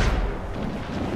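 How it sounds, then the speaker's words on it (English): Ship cannons fire in a naval battle in the video game Assassin's Creed Rogue, giving a heavy, booming blast with a deep rumbling tail that fills the short moment, loud and close. "Enemy ahead! Ready cannons!"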